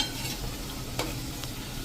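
Millet (bajra) vadas frying in hot oil as they are turned, a steady close sizzle with a brief scrape or clink near the one-second mark and another softer one shortly after.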